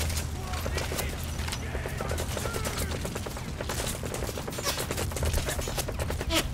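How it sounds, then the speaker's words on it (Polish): Rapid bursts of gunfire in Metal Gear Solid V: The Phantom Pain, sharp repeated cracks in quick succession over a busy background, with a voice speaking intermittently. "Kolejny strzał."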